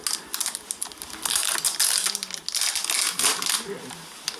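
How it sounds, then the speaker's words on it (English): Protective plastic film peeled off the back of a Samsung Galaxy S5, close crinkly crackling in uneven bursts with short pauses between pulls, fairly loud and alone. "let's take the plastic off our GS5"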